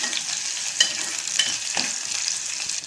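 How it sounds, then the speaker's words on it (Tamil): Ginger and garlic sauté in a hot pan, a loud bright sizzle with a few quick scrapes of the spatula stirring through it, close and uninterrupted by speech. "பூண்டு சேர்த்து நல்லா வதக்கிக்கோங்க."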